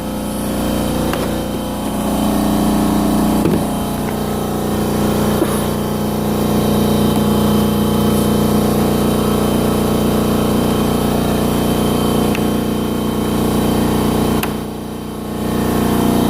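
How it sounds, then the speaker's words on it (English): A Husky 30 gallon air compressor runs loud and close for the whole stretch, a steady mechanical drone with a constant hum that briefly dips in level near the end. "I can do a lot of things with the compressor before it turns on."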